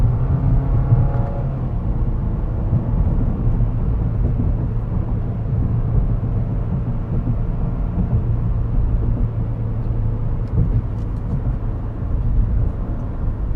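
Subaru WRX GT with a continuously variable transmission driving a mountain road, its engine holding a steady droning hum with road rumble throughout, close and continuous.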